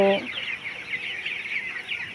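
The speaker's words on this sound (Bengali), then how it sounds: "মুরগিগুলো অনেক বড় হয়ে গেছে" Chickens on a poultry farm cluck and murmur softly in a steady close chorus, with a brief tonal call at the very start.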